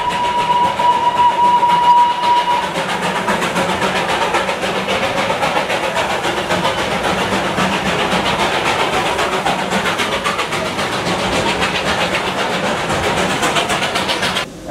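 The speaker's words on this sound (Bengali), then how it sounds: "এখন কিন্তু জয়রাইড দাঁড়িয়ে আছে steam engine water feeling point" A Darjeeling Himalayan Railway toy train steam engine stands at a water filling point, giving off a loud, steady hiss and mechanical rumble with a brief whine near the start.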